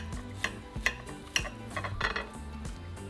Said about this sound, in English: Go shred our meat